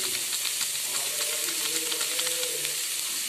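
Ingredients briefly frying in a pan while making tempered buttermilk give a continuous, close, fairly loud sizzle with soft crackles throughout and no voices.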